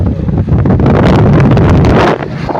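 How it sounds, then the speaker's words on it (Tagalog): Loud, gusty wind buffeting the microphone, roaring steadily before easing slightly near the end. "Ganda ng view rito, mahangin mga idol."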